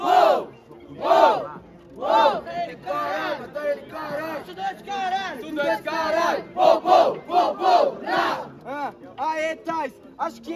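A crowd at a rap battle event shouts in unison, bursts of loud chanted cries repeating in a rhythmic pattern, close and energetic.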